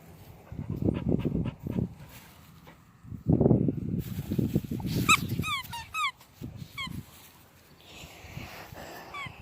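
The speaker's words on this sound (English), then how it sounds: "we're gonna start playing with my dog again" A dog pants and whimpers in short bursts while playing outdoors on grass, breathy huffs close to the microphone, with chirping birds in the background.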